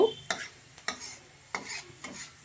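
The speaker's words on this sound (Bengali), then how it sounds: "এবার তেলের মধ্যে দেব একটু আদা কুচি, লঙ্কার কুচি আর বেসন। এটাকে ভালো করে আমি ভেজে নেব।" Chopped ginger, chili and gram flour frying in oil, heard as four or five distinct spatula stirs against the pan over a faint, quiet sizzle.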